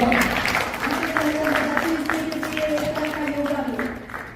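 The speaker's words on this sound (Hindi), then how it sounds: "इसके लिए 2 तालियां बजाइए" Steady crowd applause fills the whole stretch at a Hindi conference in New York, with a voice speaking in Hindi over the clapping.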